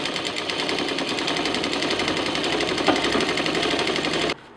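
A sewing machine runs in a steady, fast stitching rhythm as it sews a narrow folded strip of fabric piping for a festive sling bag, loud and continuous before stopping abruptly near the end.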